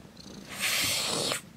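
A green-eyed house cat gives a brief, close, breathy purr lasting under a second, soft and alone.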